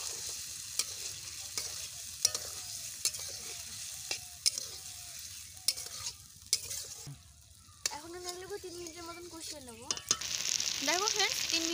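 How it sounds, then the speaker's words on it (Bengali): Spices fry with potatoes in oil in a steady close sizzle, punctuated by sharp regular clicks of a spatula against the pan, with a little background chatter toward the end. "আলুটা ভাজা হয়ে গেছে, এবার এর মধ্যে মশলাগুলো দিয়ে দেবো।"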